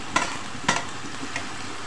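Chopped onion softens and fries in a pan, a continuous soft sizzle punctuated by a couple of brief stirring clacks, with no voices.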